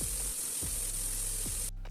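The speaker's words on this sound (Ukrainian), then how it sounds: "На пательні обсмажую спочатку 200 г сала" Pork fat and minced meat frying in a pan, a steady hissing sizzle close up and fairly quiet, with a few soft low thumps, cutting off abruptly near the end.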